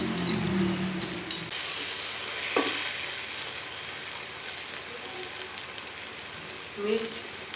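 Garlic-ginger paste and tomato paste fry with onions in a pan for a dhaba-style arbi masala curry, making a loud, steady sizzle close by with stirring scrapes and brief bits of voice at the start and end.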